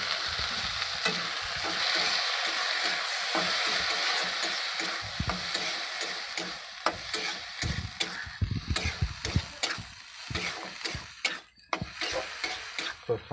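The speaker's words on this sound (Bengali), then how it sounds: "দেখতেই পাচ্ছেন আপনারা গুগলি কীরকম ভাজতে হয়।" Snails being stirred and fried in a pan at home, a soft steady sizzle with frequent scraping and clicking of the spatula growing busier toward the end, nearby and wordless.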